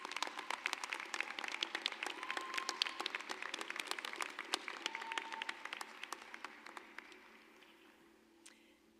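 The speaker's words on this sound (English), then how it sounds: "let's give a round of applause to the family, friends, mentors, and encouragers" Applause at a graduate hooding ceremony for families, friends and mentors, with dense, steady clapping from a large crowd that thins out and fades to a few scattered claps at the end.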